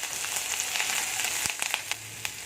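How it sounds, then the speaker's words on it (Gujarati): Grated ginger sautés in a hot pan for a fenugreek-leaf (methi bhaji) vegetable dish, giving a steady, close, fairly loud sizzle with scattered crackles and small pops throughout, and no talking. "આદુને એકદમ સરસ આપણે એને સાતળી લઈશું"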